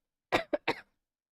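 Three short coughs in quick succession, close and fairly loud, followed by silence.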